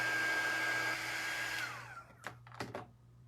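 A hair dryer blows steadily to dry glue on an Easter craft, a close whirring hum that winds down and cuts off, followed by a few soft knocks and handling sounds.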